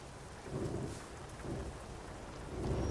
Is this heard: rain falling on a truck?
yes